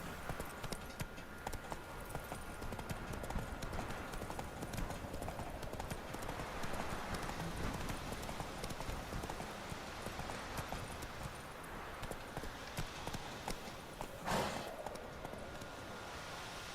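Horse hooves clip-clop steadily as a rider travels in The Witcher 3 video game, a continuous rhythmic trot at moderate distance with a faint voice briefly underneath.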